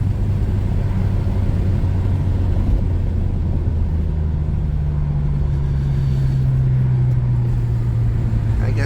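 A BMW 335i with the N54 turbocharged engine and six-speed manual pulls at half throttle at night, a steady low drone and rumble from inside the cabin with a rising engine tone partway through.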